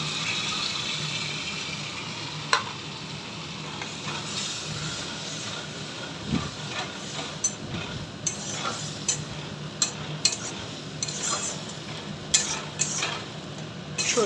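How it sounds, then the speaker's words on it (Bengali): White mustard paste frying in a pan for a Bengali fish curry, giving a steady soft sizzle with a few scraping stirs and clicks, close up, with no talk. "সর্ষেটা হালকা একটু ভেজে একটু নুন দিয়ে দিলাম পরিমাণ মতো"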